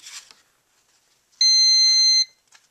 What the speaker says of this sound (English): Okay, so you just heard that beep.